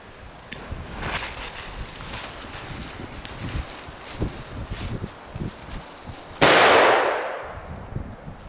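A Mamba 1 EK10T firecracker goes off with a single loud, sharp outdoor blast that decays over about two seconds, following a stretch of faint rustling and scattered small clicks.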